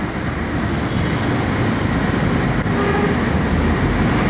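A metro train rumbles steadily overhead, a continuous loud roar of wheels on rails heard from underneath the elevated track, with no talk.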